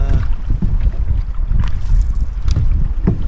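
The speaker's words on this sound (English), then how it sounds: "The wind has really picked up now" Strong wind sweeping across an open lake while canoeing, loud and constant as it buffets the microphone, with faint water and paddle sounds underneath and no voices.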